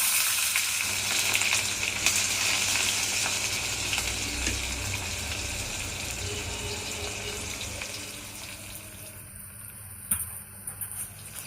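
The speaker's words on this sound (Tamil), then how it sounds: "கடுகு நல்லா பொரியுது. அந்த நேரத்தில் கொஞ்சோண்டு வெங்காயம்," Onions and mustard seeds spluttering in hot oil in a home kitchen pan, a steady close crackling sizzle that carries on throughout, with a few sharp pops near the end.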